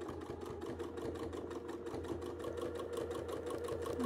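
A sewing machine runs steadily, stitching quickly in a fast, even rhythm while tacking stitches on a quilt during free-motion and ruler work. The motor hum and needle beat are continuous, close and alone, with no voices.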